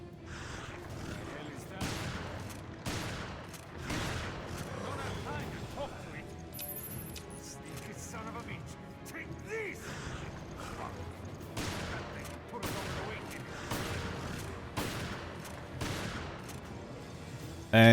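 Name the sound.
shotgun fire in video game Resident Evil Revelations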